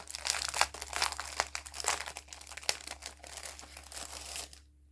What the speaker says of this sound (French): On va en déballer un. Je vais vous le déballer pour qu'on voie quand même.